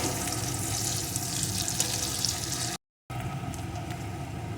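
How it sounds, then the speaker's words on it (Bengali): Chopped onion frying with garlic for a kuche fish recipe, a steady close sizzle throughout with a brief gap of silence near the end. "পেঁয়াজটাও রসুনের সাথে একটু ভেজে নেব।"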